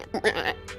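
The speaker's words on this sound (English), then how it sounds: "It also sounds like a goat" A short, wavering goat-like bleat sounds close and clear, a single bleating cry lasting under a second with no talking.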